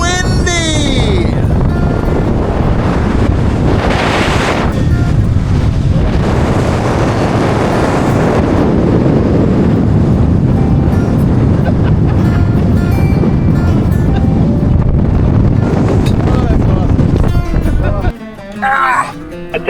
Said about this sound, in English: We are up here at the Ubehebe Crater, and it's really windy